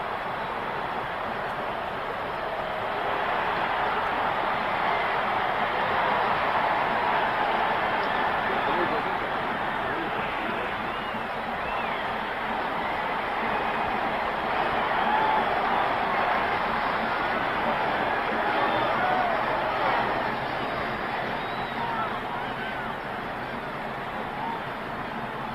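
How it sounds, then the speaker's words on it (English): A Tennessee football stadium crowd at a 1968 Alabama game roars as a broad, steady wash of noise across the whole stretch, under a commentator talking over it. "and listen to that Tennessee crowd."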